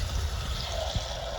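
Water poured over a piece of dried salt cod that had been soaking, filling a pot until the fish is covered; a short, steady watery trickle and pour, close and moderately loud, with no voices.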